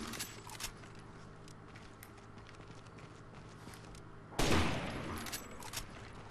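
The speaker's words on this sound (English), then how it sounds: "I'm gonna be using this sniper rifle in close quarters" A shot from a sniper rifle in the video game Rainbow Six Vegas 2 comes as one loud close blast with a decaying tail, after several seconds of quiet game ambience and faint clicks.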